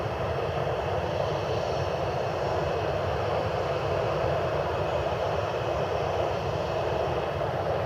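A Southwest Boeing 737-700 jet in special red, white and blue livery gives off a loud, steady engine roar that holds without a break, with no voices over it.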